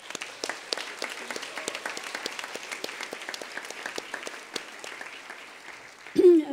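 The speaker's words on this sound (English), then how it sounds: "They deserve a huge round of applause again." At a university recognition ceremony, an audience gives staff a round of applause, a steady patter of clapping heard from a distance and at modest volume, ending with a brief voice.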